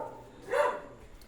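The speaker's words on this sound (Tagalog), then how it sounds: "dito nila iniiwan yung aso" A dog barks once at a school canteen, a single short, fairly distant bark standing alone against a quiet background.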